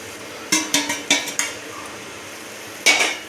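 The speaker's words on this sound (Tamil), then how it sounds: "இதையும் நல்லா ஒரு கிளறி விட்டுக்கலாங்க" A utensil stirs and scrapes through mutton curry with ground spice powders and turmeric in a metal pot, giving a cluster of four quick, bright clanks followed by a pause and one more knock, close and without talk.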